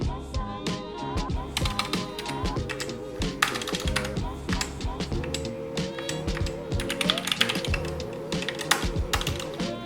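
Steady, rapid typing on a GK61 budget mechanical keyboard, with dense clacky keystrokes and occasional heavier thocks continuing close up without pause, no talk.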